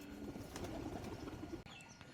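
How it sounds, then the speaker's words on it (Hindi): Pigeons coo in a steady, low, murmuring chorus close by at a house in Narayanpur, Chhattisgarh, with faint chirps above and a brief dip near the end. "कबूतर बहुत कुड़कू कर रहे हैं।"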